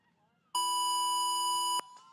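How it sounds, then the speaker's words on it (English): A start buzzer at the 2023 CrossFit Games age-group competition gives one loud, steady electronic tone lasting a little over a second, then cuts off sharply, with faint crowd and arena noise before and after. "That's the buzzer."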